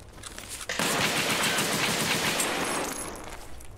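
Dense, loud automatic gunfire from Escape from Tarkov erupts after a brief quieter lead-in and keeps rattling in a continuous burst close by.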